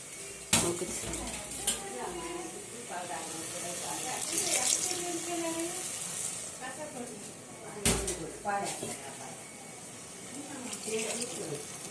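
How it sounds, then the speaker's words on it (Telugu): Water splashes and runs into a pan amid clinks of metal cookware, with a couple of sharp knocks and voices talking in the background. "వాటర్ పోసేసేస్తున్నాను"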